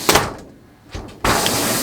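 Sliding shower door in a 2019 Leisure Travel Vans Unity FX motorhome, heard as a short scraping slide, a pause, another brief rattle, then a loud sustained rushing slide, all close by.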